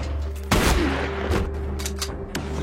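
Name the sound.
gunfire in a horror film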